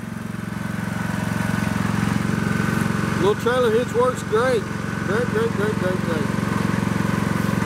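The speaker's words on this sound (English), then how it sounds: "Pocket mower running out of gas." A small pocket mower engine running out of gas with its fuel shut off and a slightly leaking carburetor, droning steadily and close throughout with a brief spoken word midway.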